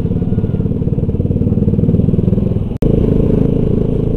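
A motorcycle fitted with an aftermarket exhaust and a dB killer idles or rides at low speed nearby, giving a loud, steady low-pitched thrum with a fast pulsing beat and one sharp momentary dropout partway through.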